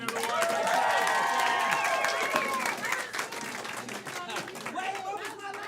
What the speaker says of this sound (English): Clap for them again, everyone.